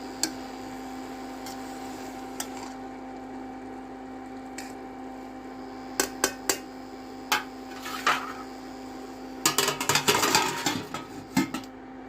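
Dishes, pots and pans from the previous night being washed in a home kitchen, with scattered clinks and clatters growing busier toward the end over a steady hum.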